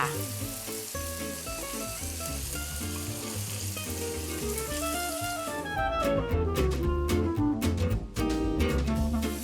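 Sauce hits a sizzling pan of Thai holy basil stir-fry. A steady, close frying hiss swells into a louder, busier crackle partway through, with background music underneath.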